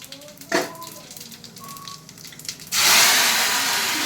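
Mustard seeds dropping into hot oil already holding dried red chillies and cumin, a sudden loud steady sizzle that bursts in near the end after some quieter clinks and kitchen noise.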